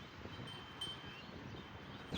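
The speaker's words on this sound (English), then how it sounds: "Woo, woo, woo, it's windy." Strong wind blows through a storm as rain approaches, a steady low rushing roar buffeting the microphone, loud and continuous with a gust near the end.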